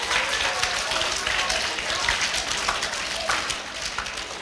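An audience applauds a prize winner at a school annual function, a steady, dense wash of clapping from a crowd that keeps going without a break.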